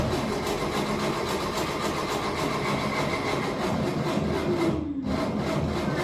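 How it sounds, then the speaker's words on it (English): The engine of a 1960 Volkswagen Single Cab barn find cranks continuously under the starter, a steady rhythmic churning that holds at a fairly even level without catching, with no talk. "Go ahead and crank again."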